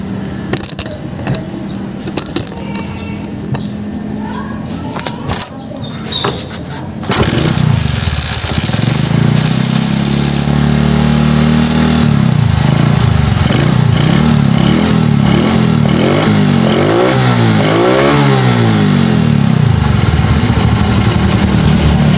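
A motorcycle engine, restored to run like new after a tune-up, starts partway through and revs repeatedly, rising and falling loudly and close by, with no talk.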